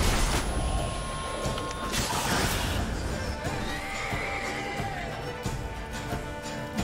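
Roach the horse whinnying in the video game The Witcher 3: Blood and Wine, a drawn-out neigh amid steady game ambience and effects, with faint clip-clop and a voice nearby.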